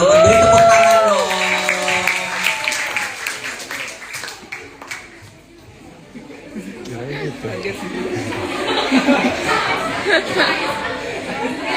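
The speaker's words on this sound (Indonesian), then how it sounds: "Kepada geng Safa dan geng Nadia kami persilahkan teman-teman beri tepuk tangan dong." School audience in a public speaking session breaking into applause and clapping, loud at first, then thinning and picking up again amid crowd chatter, with voices talking throughout.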